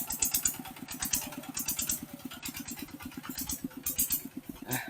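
A motorcycle engine idles close by during a forest trip, its rapid, even firing pulses beating steadily and loudly throughout, with no talking.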